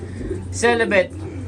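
Racing pigeon hens coo in a loft hallway, giving a single short, close, rolling coo over a soft background.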